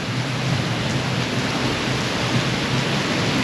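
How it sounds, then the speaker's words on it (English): Heavy rain pours down steadily and loudly in a dense, unbroken wash of noise, with no other sounds rising above it. "It is absolutely pouring."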